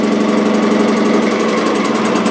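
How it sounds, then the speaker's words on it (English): A Juki DNU1542 industrial sewing machine stitches while winding a bobbin, a loud, close, rapid mechanical hum with a fast regular beating rhythm, steady throughout. "So now as we sew along here, the bobbin is winding automatically."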